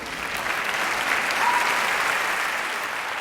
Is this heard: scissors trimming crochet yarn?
no